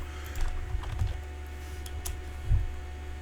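Keys clatter on a computer keyboard in short uneven bursts of clicks, close and fairly quiet, with a few louder thumps and no speech.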